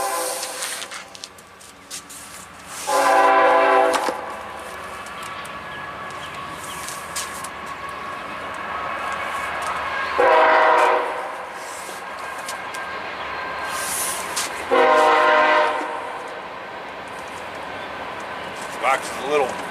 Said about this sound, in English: Sounds like there's a train coming through town